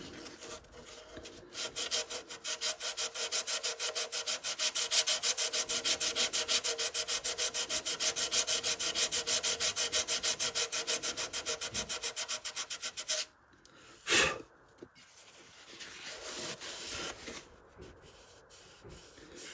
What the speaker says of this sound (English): See, I'm already sanding through right there.